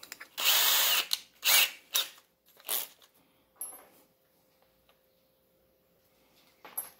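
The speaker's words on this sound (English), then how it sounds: "I've got the 7/16 drill bit." A 7/16 drill bit bores into metal during an oil pressure gauge sender install on a 5.3 LS-swapped S10. Several loud, close whirring bursts come in quick succession, followed by quieter handling noise and a final brief spin-up.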